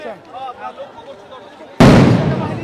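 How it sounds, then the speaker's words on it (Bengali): A police sound grenade explodes in a street clash between student groups, one sudden loud blast that rings out and decays, after quieter crowd noise and distant voices. "আমরা দেখছি যে সাউন্ড গ্রেনেড ছুটছে"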